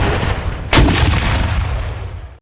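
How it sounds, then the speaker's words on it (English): Civil War artillery at the Battle of Shiloh, with a heavy cannon blast booming out partway through over a dense, sustained rumble of distant gunfire that slowly fades. "artillery fire pours down, and the deafening sounds of cannons are heard by the Confederates"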